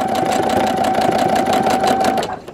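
A sewing machine chain-stitches quilt pieces in a continuous, fast, even whir, with a steady motor hum under rapid stitching that runs close and loud until it stops at the end.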